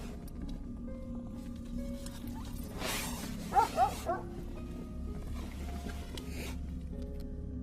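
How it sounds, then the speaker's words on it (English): A dog outside a tent gives a few short yips and barks, muffled and moderately close, against a quiet background hum. "Not long after, Kuchum was heard barking again outside the tent."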